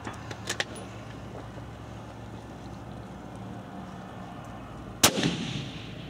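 A single rifle gunshot at an outdoor shooting range, one sharp loud crack near the end followed by a short rolling echo, over a steady low background hum.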